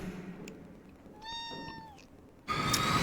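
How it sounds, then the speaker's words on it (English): A cat gives a single clear meow, close by, over a low background hum and game audio, with a louder burst of noise following shortly after. "That's my cat, guys."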